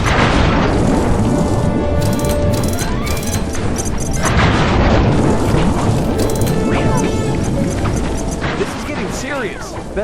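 Bomb explosions from Sly 3: Honor Among Thieves, a run of loud booms, smashes and crashes in quick, dense succession with clanking debris, heard under and between game dialogue.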